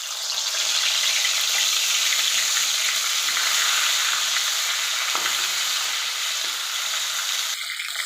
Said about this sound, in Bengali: এবার আমি ফুলকপিগুলো তেলে ভেজে নেব।